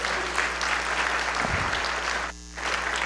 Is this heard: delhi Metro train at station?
no